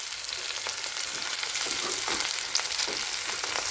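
Sliced onion fries in a pressure cooker while cooking egg curry, a dense continuous sizzle and crackle with light stirring scrapes throughout, close and fairly loud, no talking.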